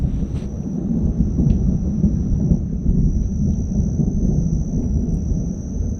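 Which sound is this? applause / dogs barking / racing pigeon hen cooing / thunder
thunder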